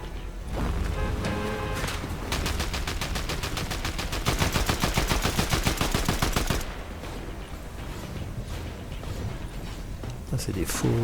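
Rapid automatic turret gunfire in Fortnite, a dense burst of sustained shots from about two to six and a half seconds, loud and close, amid other game effects before and after.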